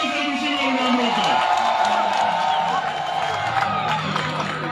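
Crowd at an outdoor political rally in Rabai, Kenya, cheering and clapping in a sustained wash of noise, with voices mixed in throughout.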